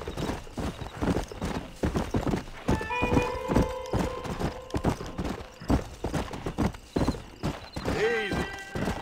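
Rhythmic clip-clop of horse hooves at a walking pace in the video game Red Dead Redemption on PC, with a horse whinnying briefly, while a person talks over the top.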